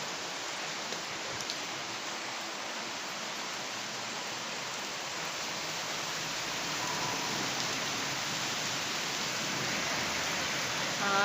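Heavy rain pours down steadily in Hyderabad, a dense, unbroken hiss that swells slightly louder toward the end, with no voices.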